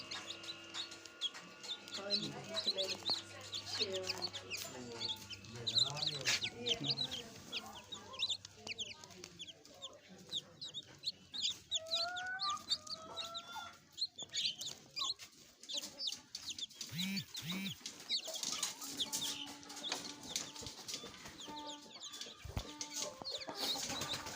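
Chickens cluck and chatter close by, with scattered squawks and a rooster's crow, while a person speaks intermittently over the birds.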